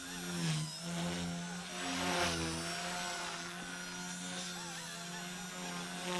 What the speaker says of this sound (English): Cool little heli. Quiet. Tail doesn't make a lot of noise.